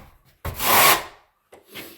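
A trowel drags across mortar on cement board in two short gritty scrapes, the first longer and louder, the second fainter and brief.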